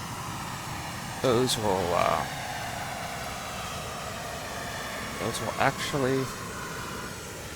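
Boeing B-47 Stratojet jet engines at 100% throttle in a P3Dv4 flight simulator give a steady, even broadband roar throughout, with someone talking over it in two short bursts.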